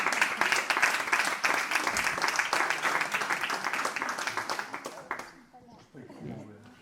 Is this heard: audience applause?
yes